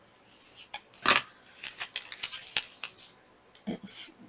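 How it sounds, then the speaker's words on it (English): Scissors trim the edge of washi tape with a quick series of close, crisp snips and small paper rustles, with no talking. "maybe just trim that edge off"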